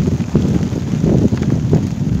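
Rain falling outdoors during a fishing trip, a steady broadband patter with gusty low rumble like wind hitting the microphone, loud and continuous with no talking.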